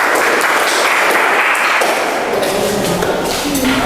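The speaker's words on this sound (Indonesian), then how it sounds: "Tepuk tangan untuk Yuli." A classroom of secondary students in an Indonesian sociology lesson applauds a classmate stepping up to present, a dense, steady wash of clapping that fills the room for several seconds and tapers slightly near the end.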